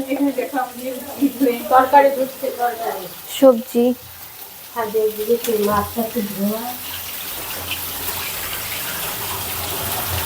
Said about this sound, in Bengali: আর ওখানে মাছ ভাজাটা এখনো হচ্ছে